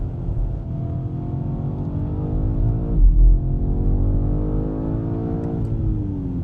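A BMW M5 pulls hard along a Formula 1 circuit, its engine note loud and close, climbing steadily in pitch through the gears with a brief surge midway and no talk.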